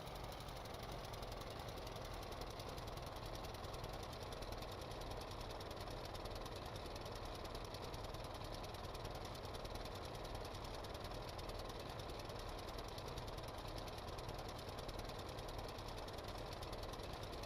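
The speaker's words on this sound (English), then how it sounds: "this one has the 5x5 diesel in it" A 5x5 diesel engine running steadily on a boat cruising at around 18 to 19 knots, a continuous dense rumble with a fast knocking pulse, even and unbroken throughout with no voices.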